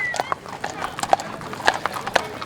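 A horse at a rally in Washington D.C., with steady clip-clop hoofbeats on pavement and a brief whinny, close and clear amid crowd noise and voices talking.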